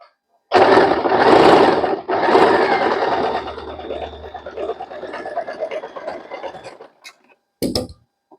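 A sewing machine fitted with a presser foot runs in a loud, steady whirring stitch for several seconds, pauses briefly, then runs again before stopping, with a final short burst near the end.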